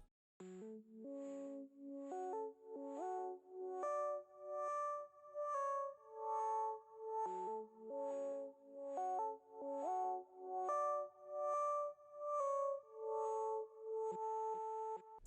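Ambient synth lead called No Change, drenched in delay, gliding smoothly between notes in a steady pulsing melody; soft, airy repeated swells with echoing tails, quiet and alone.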